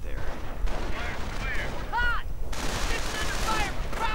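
Machine gun fire in a WWII strategy video game, including an MG42, heard as bursts and booms through steady battle noise, with a descending whistle sweeping past and voices in the mix.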